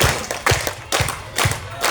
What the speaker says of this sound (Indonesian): Tapi tepuk tangannya berirama.